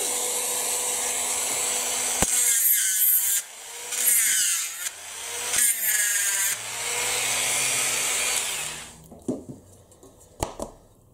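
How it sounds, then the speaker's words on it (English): A high-pitched Dremel rotary tool whines in several bursts, drilling into metal on a 1/18 Audi R8 model kit with rising and falling pitch, then stops and leaves a few clicks. "I might get the Dremel onto that one again."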